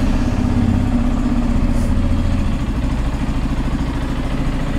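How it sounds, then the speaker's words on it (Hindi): A Yamaha FZS v3 motorcycle engine idles steadily close by after starting, its low exhaust note running evenly and loudly throughout, with no voices over it. "कर लेते हैं बाइक को स्टार्ट और सुनते हैं एग्जॉस्ट नोट किस टाइप का मिल"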